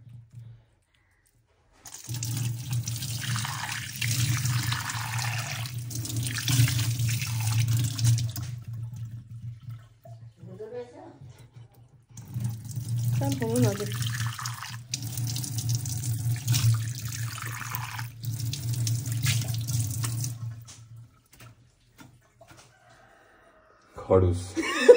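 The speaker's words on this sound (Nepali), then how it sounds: "पानी चाहिँ कस्तो आउने हो अब हेर्नुपर्छ" Water gushes from a newly installed tap in two long, loud bursts separated by a pause, with a rooster crowing nearby in between and brief voices at the end.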